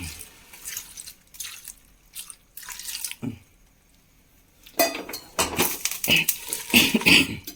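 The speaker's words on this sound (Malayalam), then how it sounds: "വെള്ളം ഒഴിച്ച് കൊടുക്കാം" Water poured into a pressure cooker holding chopped young jackfruit, heard as a few splashy pouring bursts and drips with metallic pot clatter between quieter pauses, close and alone.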